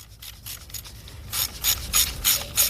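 A ratchet clicks in repeated bursts while removing bolts on a Volkswagen engine during rear timing chain work, the rasping pawl strokes growing louder and more regular toward the end, close by with no talk.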